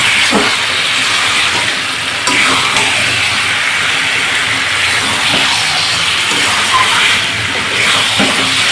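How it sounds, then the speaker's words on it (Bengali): Oil and spices for a small chicken dish sizzling loudly and steadily in a pan while being mixed, a continuous hiss with occasional scraping. "তেলটা দিয়ে আমি ভালো করে মশলার সাথে মিশিয়ে নিই"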